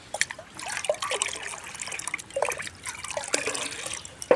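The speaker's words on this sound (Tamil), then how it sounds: "ஒரு டம்ளரை ஊற்றுறோம்" A tumbler of beetroot liquid fertilizer solution poured out, producing gentle trickling and dripping in several soft bursts, close and fairly quiet, with no talking.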